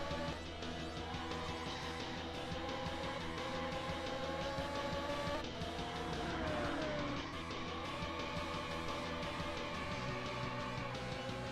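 A Ferrari Testarossa drives in OutRun 2006: Coast 2 Coast on PS2, its engine droning steadily and shifting pitch throughout, with game music and brief tire noise mixed in and no talk.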